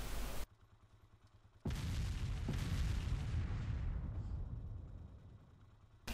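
In a multiplayer shooter match, a grenade bursts with a sudden loud, broad boom after a quiet stretch, its rumbling tail decaying over a few seconds before a second sharp blast at the end.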